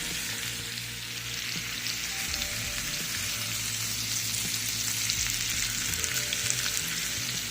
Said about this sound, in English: And also I'm going to sear it on this side about maybe 2 more minutes.